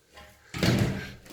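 A broken-then-repaired shower door in a rented flat is pushed open and shut, a short scrape and thud rising sharply halfway through, close by with no talk.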